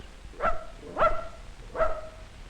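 A dog barks three times in an even rhythm at a snapping turtle beside a pond, loud, close and sharp, with quiet gaps between the barks.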